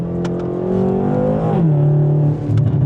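An old BMW V8 engine revs hard, its deep rumble rising and swelling steadily, close by and loud with no talking.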